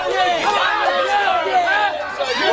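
A wrestling crowd jeers and shouts at a wrestler who has been sent to the outside of the ring, loud, steady chatter and yelling filling the whole stretch with no break.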